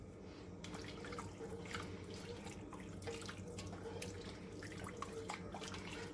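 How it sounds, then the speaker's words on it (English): Beef broth, regular salty rather than low sodium, pours steadily into a pot for beef stew, a soft continuous liquid splashing with light drips and no talking. "So I'm going to add 5 cups of beef broth."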